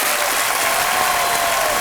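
Steady studio audience applause on a Hindi TV quiz-show set, dense and continuous from start to finish with no voices over it.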